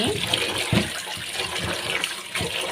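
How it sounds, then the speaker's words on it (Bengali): Bottle gourd peels are rinsed under running tap water, with a steady close splashing flow and a few heavier splashes as the peels are handled; a voice is faintly present. "আগে আমি লাউয়ের খোসাগুলো ধুয়ে নিচ্ছি"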